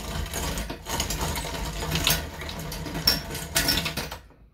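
A Fasco State Fair ceiling fan in antique brass, model 965, starts up from off to high with a damaged flywheel, giving a dense, loud mechanical rattle and clatter with scraping knocks before cutting off abruptly.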